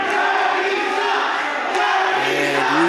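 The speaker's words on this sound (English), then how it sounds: "you hear this bullpen crowd letting Cody know exactly how they feel about him" A dense, loud wrestling crowd at a Bull Pen Professional wrestling show roars, boos and shouts at a wrestler, a continuous wall of voices close by.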